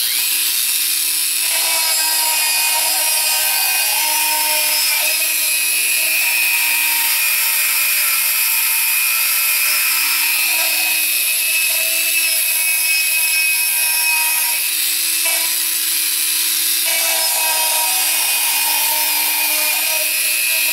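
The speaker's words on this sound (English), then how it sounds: "basically I'm going to cut into the model and leave about a 1/16 of an inch or less around the perimeter" Power cutting into the hull of an RC submarine model, trimming close around the perimeter: a loud, steady whining grind with sustained high tones that dips and shifts in pitch a few times across twenty seconds, with no talking.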